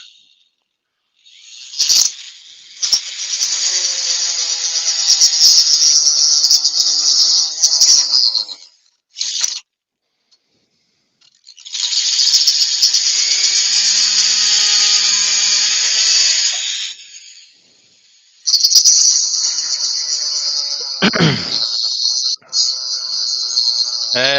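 A Dremel rotary tool cuts into wood in three long bursts of high, whining grinding separated by brief pauses, loud and close, with short rasping scrapes between runs.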